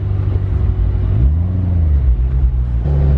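A new car's engine rumbles steadily at close range, a deep continuous low drone whose pitch rises and falls slightly as it idles and revs, with no talking over it.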